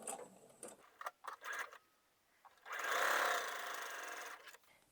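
A sewing machine chain-piecing quilt fabric pieces for a gravity quilt block runs in a steady, moderately close whir for about two seconds, preceded by short clicks and handling sounds.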